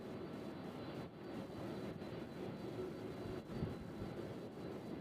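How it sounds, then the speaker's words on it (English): UPS cargo jet departing Louisville's UPS World Port airport, a faint, distant, steady engine rumble and roar with slight swells, heard alone without talk. "we got UPS flight 5306 headed out to Atlanta"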